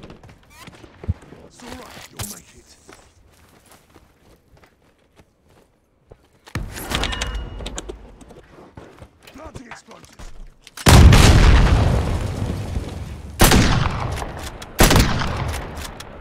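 Gunshots in a multiplayer video game: after a quiet stretch, sharp loud bursts of gunfire hit in separate clusters, with players talking over the action.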